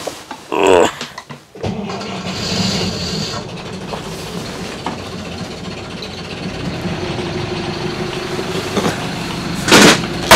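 A boat engine on a vessel in the North Sea gets a little throttle, settling into a steady mechanical hum with rattly, clanking noises over it after a few sharp knocks at the start.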